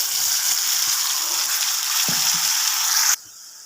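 Ground spice paste hits hot oil tempered with whole cumin and a dried red chilli, giving a steady loud sizzle and hiss that stops abruptly near the end, leaving a faint hum.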